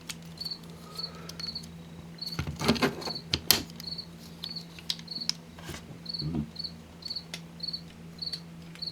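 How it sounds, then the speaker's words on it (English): A cricket chirps indoors in a quiet room, a steady run of short, evenly spaced high chirps, with a few louder knocks and clatters passing in between. "there is a cricket in this room that is bothering me right now"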